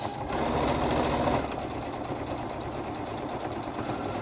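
A sewing machine runs steadily, edge stitching the top of a fabric face mask, with a close, continuous mechanical whir that is slightly louder during the first second and a half.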